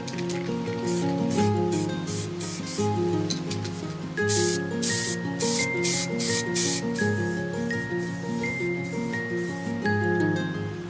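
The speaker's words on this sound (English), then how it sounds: "Dom can begin to repaint, starting with a primer." Spray primer hisses from an aerosol can onto a scraped metal pole in repeated short bursts, with steady music underneath and no talking.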